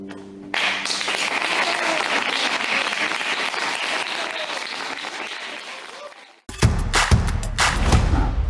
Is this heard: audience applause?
yes